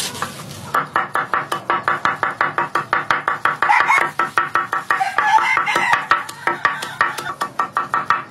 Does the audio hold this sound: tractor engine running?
no